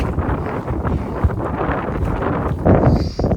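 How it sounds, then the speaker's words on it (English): Strong gale-force wind buffets the microphone on an exposed mountain trail on the Tour du Mont Blanc, a loud, continuous low roar with gusts surging near the end, with no voices. "gale force winds out here"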